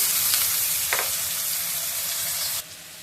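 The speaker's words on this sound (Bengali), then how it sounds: "ওই যে আলু আর পেঁয়াজ লঙ্কা সব কেটে দিলাম, এগুলো একটু ভাজা ভাজা হয়ে যায়" Potato, onion and chili frying in a pan, a steady broadband sizzle that holds close and continuous, with a couple of soft stirring scrapes, then a sudden drop in level near the end.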